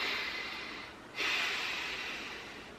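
One deep breath close to the microphone: a long, airy inhale that fades, a brief pause, then a fuller exhale rushing out, soft and breathy.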